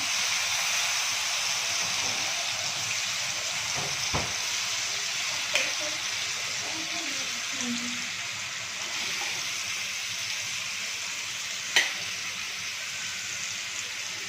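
Raw green mango pieces sauté in hot oil with asafoetida and red chilli powder for methamba, a continuous soft sizzle with a few stirring clicks and taps over it.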